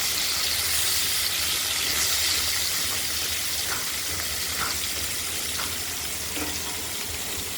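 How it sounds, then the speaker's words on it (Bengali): Pieces of catla fish rubbed with salt and turmeric fry in hot oil, giving a steady, close, crackling sizzle with small pops throughout and no voices. "নুন হলুদ মাখানো কাতলা মাছের পিসগুলো ভেজে থাকছে"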